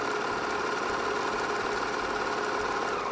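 A serger sewing machine runs steadily while stitching and trimming about 5/8 inch off the fabric edge, giving a continuous close mechanical whir and hum with no pauses.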